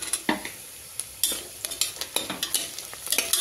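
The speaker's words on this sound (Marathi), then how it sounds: "अजून थोडा लालसर होईपर्यंत असं परतून राहायचं त्याला।" Onions and green chilies stir-fry in a pan for mutton biryani, soft sizzling broken by repeated scraping strokes of a spoon against the pot, close and steady.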